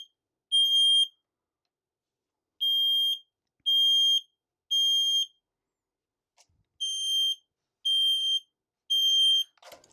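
A 2-wire hardwired smoke alarm sounds loud, piercing beeps in groups of three with pauses between them, followed by a faint clatter near the end.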